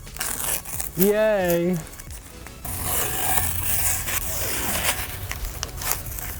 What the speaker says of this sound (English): Now we can take all the tape off.